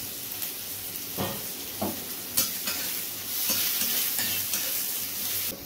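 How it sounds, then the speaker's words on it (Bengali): Chopped onion and garlic sizzle in hot oil with dried red chilli while being stirred, a steady frying hiss broken by scraping stir strokes, for a chicken and potato curry. "শুকনো লঙ্কা ফোড়ন দিয়ে নাড়া পর তারপর তাতে এই পেঁয়াজ কুচি দিয়ে দেওয়া হলো"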